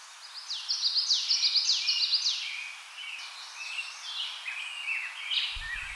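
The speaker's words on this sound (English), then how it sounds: "Between feedings, I stand entranced by a chorus of song." A chorus of birdsong, with overlapping high chirps and rapid trilled phrases from several birds, bright and fairly close, busiest in the first few seconds, then softer and more scattered.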